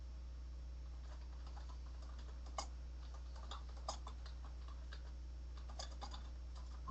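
Computer keyboard typing during a Visual Studio programming session, a handful of soft, scattered key clicks over a steady low electrical hum, quiet and close.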